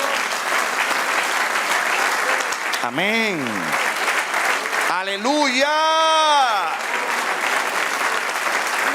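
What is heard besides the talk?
church congregation applause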